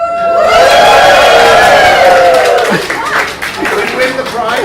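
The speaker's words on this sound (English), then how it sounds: "here comes another opportunity for us to cheer." Audience cheering at a talk on habits, loud sustained whoops and shouts from many voices with some clapping underneath, fading and breaking into scattered calls near the end.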